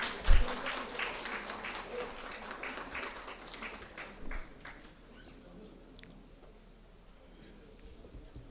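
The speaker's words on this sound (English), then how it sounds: "Let us give a big round of applause." Audience applause at a one-day legal awareness programme, a round of clapping that starts fairly loud and fades away over several seconds, with faint chatter beneath.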